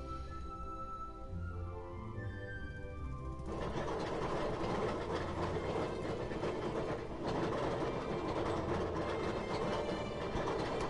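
A roller coaster train ride in a video game, rolling clatter that starts soft and then jumps to a louder steady rush with rhythmic clicking, continuous with no talking.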